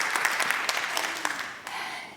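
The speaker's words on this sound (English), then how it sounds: "Give it up for Shannon one more time. Big applause." An audience at a keynote talk gives a short round of applause, a soft, dense patter of many hands that fades toward the end, with a few louder claps standing out.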